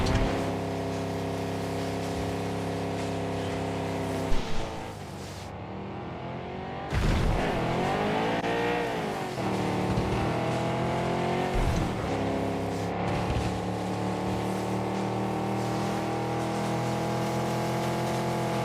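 A Lamborghini car driving in the video game PUBG, a loud steady engine drone with rising and falling revs as it accelerates and shifts, close and continuous for the whole stretch, with no talking.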